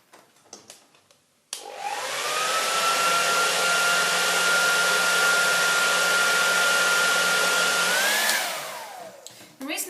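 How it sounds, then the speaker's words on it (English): After a few brief knocks, a hair dryer switches on and blows a steady, loud rushing whine across a gold ornament, holding an even pitch for several seconds before the pitch rises and it winds down and stops. "the hairdryer will represent the air"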